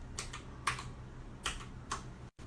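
Several quiet, crisp clicks come from a computer keyboard as a shortcut combination of keys is pressed, spaced out in a loose, irregular rhythm with no talking.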